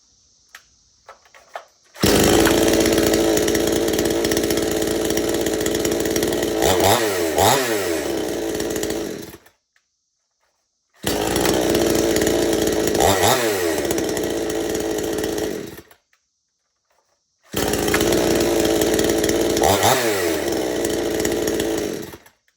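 Model 5200 chainsaw running loud and close in three separate bursts, a harsh high-revving buzz with brief rev changes, cut off by silent gaps between runs.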